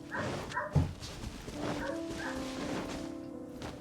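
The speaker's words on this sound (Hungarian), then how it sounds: "szóval most már hallatszik a kutya" Half-husky dog whimpering and yipping nearby, with a sharp yelp early on and a drawn-out whine after, fairly loud over faint background noise.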